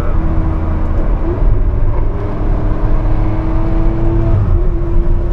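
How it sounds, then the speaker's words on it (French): A Ferrari 599 GTB Fiorano with its 6-litre V12 accelerating, heard as a loud, continuous, smooth engine drone with steady rising harmonics, close up and without speech. "le V12 a un côté onctueux. Oui, la sonorité est vraiment particulière."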